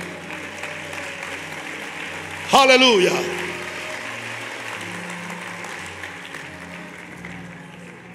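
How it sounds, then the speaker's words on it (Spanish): A church congregation bursts into loud applause and cheering after the preacher's call, a sudden swell that fades quickly beneath continued background noise, with a voice speaking over it. "Denle un aplauso fuerte a Jesús."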